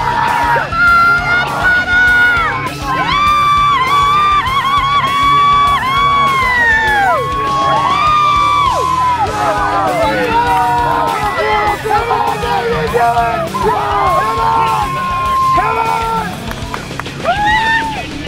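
Spectators cheer at the finish of a USRowing Nationals masters crew race, a loud, sustained wash of shouting and whooping voices with crowd babble that holds steady throughout.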